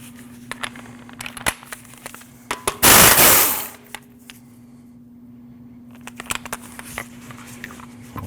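Bumper bolt of 19 mm being removed from a 2014-2023 Jeep Cherokee, a single loud burst of an impact wrench lasting about a second, set among faint clicks and taps of tools.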